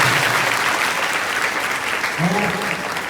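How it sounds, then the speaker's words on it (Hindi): A crowd of schoolgirls and staff at a school function breaks into loud, sustained clapping that fills the hall, with a voice briefly heard over the applause. "एक बार पुनः जोरदार ताली से"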